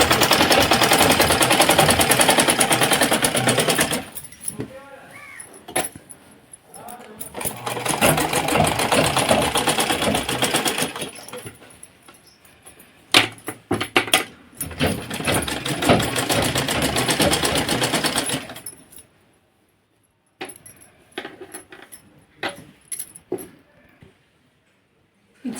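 A sewing machine stitches a blouse in long steady runs of rapid whirring, stopping and restarting with short bursts and quiet gaps between, close and fairly loud.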